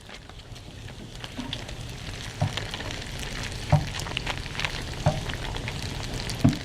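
Dip ingredients sizzling and melting together with onion in a hot pan, a continuous crackling fry with a few low knocks of the utensil against the pan at intervals.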